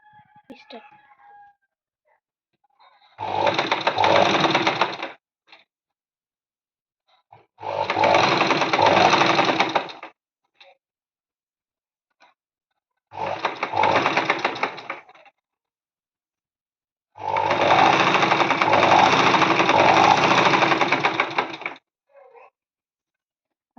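Sewing machine stitching piping along a blouse neckline, four runs of steady fast mechanical whirring separated by quiet pauses, close and clear, with faint small sounds between runs.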